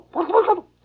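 A voice imitates turkeys gobbling in the woods of Tennessee, a short warbling burst of a few rapid pulses, close and clear.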